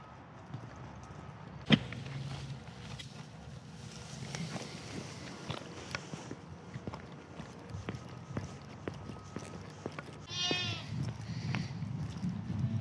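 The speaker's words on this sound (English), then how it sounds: "Goats!" Goats bleat in a wavering, vibrato call near the end, over a steady outdoor homestead background with scattered knocks and rustling, after atmospheric river storm damage.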